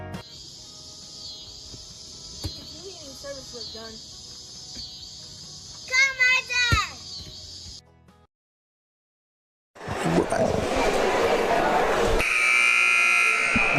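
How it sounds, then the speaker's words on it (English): At a girls' high school basketball game, a long, loud electronic buzzer blares steadily for several seconds, a faint announcer's voice beneath it, then after a brief silence a noisy gym crowd roars. "Buzzer."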